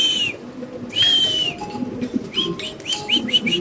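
Birds calling at a pigeon farm housing Lahori pigeons: repeated bright chirps and short whistles come in bursts over a steady low rustle of the flock, fairly close, with no talking.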